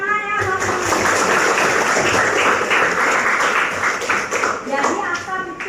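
A classroom of pupils claps together at the teacher's prompt, a dense, steady patter of many hands lasting several seconds, close and loud, with children's voices mixed in.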